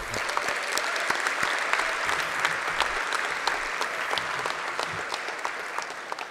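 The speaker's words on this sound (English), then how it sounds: "I think also a round of applause should go to yourselves for doing this great job." Sustained audience applause at a 2023 ITS graduation ceremony, a dense, steady clapping from a large crowd that holds at an even level throughout without talk.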